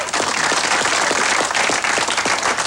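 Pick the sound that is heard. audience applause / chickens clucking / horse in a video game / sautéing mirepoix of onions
audience applause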